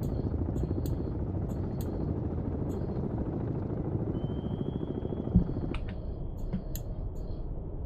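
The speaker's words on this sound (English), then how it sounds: "2 damn helos." Two helicopters in the submarine game Cold Waters, a continuous low rotor thrum with rapid rhythmic chop, accompanied by sharp periodic ticking clicks and a brief electronic tone, no talk.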